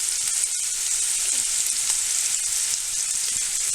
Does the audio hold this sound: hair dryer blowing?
no